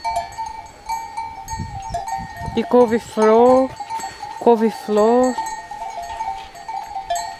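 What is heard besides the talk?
sheep bells clanking on grazing sheep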